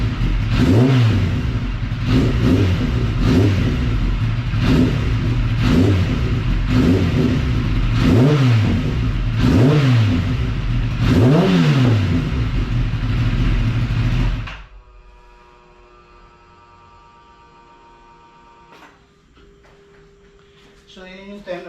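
A Kawasaki ZX10R with a new aftermarket exhaust is revved repeatedly, about seven sharp throttle blips rising and falling over a steady idle, then the engine cuts to near quiet with faint ringing.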